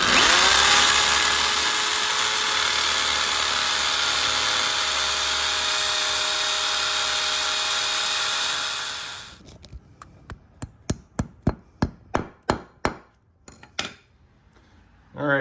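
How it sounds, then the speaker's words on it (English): A power drill bores a mounting hole at the door edge of a Jeep 4xe, whining steadily and loudly for about nine seconds, then stopping and giving way to a run of sharp clicks and taps. "So we'll drill our hole and mount our first one."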